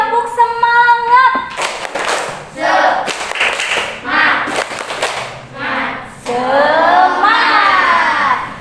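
A school class doing a rhythmic spirit clap in unison, with bursts of clapping in patterned groups mixed with children's voices calling out between the clapping phrases.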